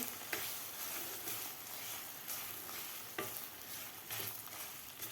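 Chopped jaggery melts in hot ghee in a pan, giving a soft continuous sizzle with light periodic stirring scrapes, fairly quiet and close, no voices.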